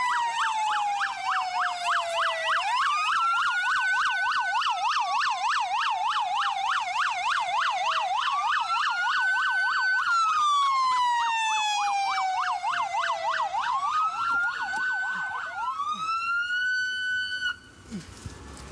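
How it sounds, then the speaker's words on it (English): A police car siren wails close by, rising and falling in long sweeps, then switches to a rapid yelp before cycling back, and ends in a brief fast warble near the end. No one speaks. "you see my lights and sirens?"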